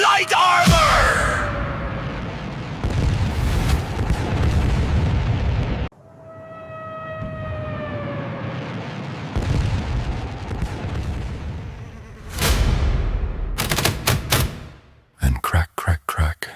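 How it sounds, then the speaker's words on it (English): Sharp gunfire cracks from bluffs in a wartime scene with German troops, heavy booms and roaring blasts giving way to a rapid burst of separate shots near the end, loud and close with no talk. "Crack, crack, crack, gunfire from the bluffs."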